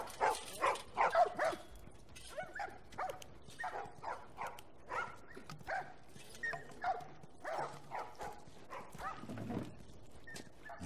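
Dogs in The Last of Us video game bark repeatedly in a steady run of sharp, mid-distance barks and yips across the whole stretch, with little else beneath.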